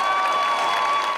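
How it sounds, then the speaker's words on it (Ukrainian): Comedy league show audience in a packed Vinnytsia hall gives a brief burst of applause and cheering, a steady wash of clapping with a tonal hum over it. "Глядачі зустрічали учасників оваціями"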